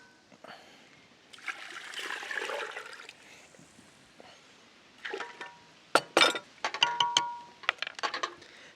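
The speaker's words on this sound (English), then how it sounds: "add water at room temperature." Room-temperature water poured from a container onto spices for a brine, intermittent splashing and trickling, close and fairly soft, with some clinks of glass and handling noise between pours.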